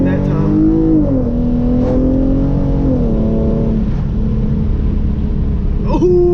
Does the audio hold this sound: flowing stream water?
no